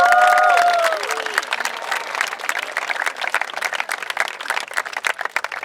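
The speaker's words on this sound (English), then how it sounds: "let's give all the parents a round of applause." An audience at a school event applauds the parents, with steady clapping from a crowd that swells after a voice fades out at the start and carries on, dense and lively, to the end.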